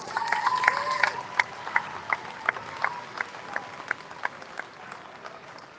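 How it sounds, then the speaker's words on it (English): Crowd applauding the Masons and award winners during a live-streamed awards show, clapping that starts fuller and thins into a few distinct, evenly spaced claps, with a faint tonal background underneath. "One more big round of applause to the Masons and our winners."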